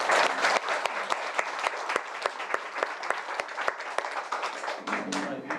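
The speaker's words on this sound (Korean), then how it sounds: "큰 박수로 환영해 주시기" Audience applause at a Buddhist temple sisterhood ceremony welcoming the head monk of Namhwa Temple, a dense steady wash of many hands clapping with sharp individual claps standing out, sustained throughout at a moderate level.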